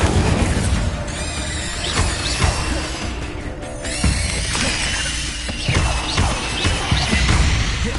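An Incendio fire spell cast in Hogwarts Legacy bursts with loud crashing booms and crackling, shattering impacts, layered over busy game sounds throughout.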